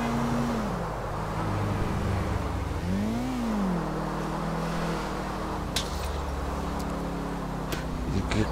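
A motorcycle ridden in Grand Theft Auto IV drones steadily with engine whine that rises and falls through several throttle swells, close and continuous, with a few faint clicks near the end and no talking.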